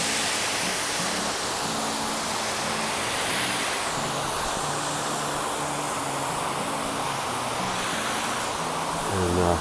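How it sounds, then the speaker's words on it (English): Water splashes and pours down a rock wall in a small waterfall beside a mountain trail. A steady, close rush of spray holds on without break, with a faint low hum underneath. "Look at the water splashing and coming down this rock wall right here."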